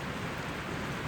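Heavy rain falling outdoors at a newly dug lake during a downpour, a dense, even hiss of close, steady rainfall with no voices.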